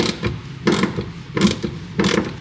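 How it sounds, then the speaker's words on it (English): A ratchet works bolts loose on a Ford Raptor, giving three close bursts of rapid clicking about every 0.7 seconds with short pauses between them. "So just broke them free with my regular ratchet."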